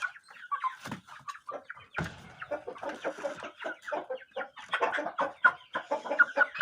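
A Shamo fighting rooster named Kobra makes a run of close, irregular clucking calls, short throaty bursts that come in quick, uneven clusters.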